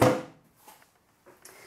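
A craft room drawer opens or shuts with one sharp, close knock, followed by a few softer scrapes and rattles.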